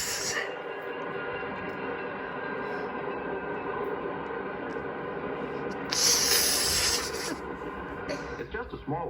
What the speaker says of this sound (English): the train is approaching a station.